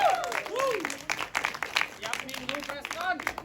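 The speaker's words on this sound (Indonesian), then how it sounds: "Dan tentunya tepuk tangan yang paling berikan untuk Mas Rukman Rosadi." Applause from an audience at a film press event, scattered clapping running under a presenter's voice throughout.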